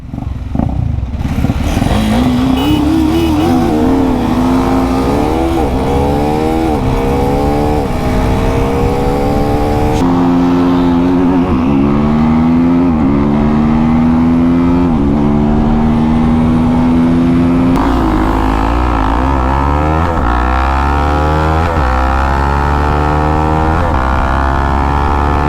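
A powerful naked street motorcycle screams under hard acceleration, its loud engine note climbing repeatedly and dropping at each gear shift, steady and close for the whole stretch.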